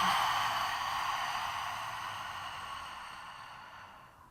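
A long, steady exhale during yoga breathing, a soft airy rush that starts fairly strong and gradually fades over several seconds, close to the mic with no talking.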